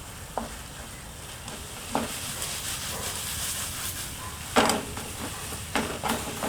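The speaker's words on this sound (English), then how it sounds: "it's sizzling hot, it's bubbling, the ghee is bubbling, the pan is sizzling" Chicken sizzles steadily in hot bubbling ghee, with several louder scraping stirs in the pan every second or two.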